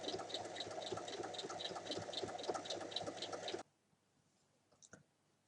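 A sewing machine runs a straight seam along fabric with rapid, even mechanical clicking for about three and a half seconds, then stops abruptly, leaving near silence and a few faint handling noises.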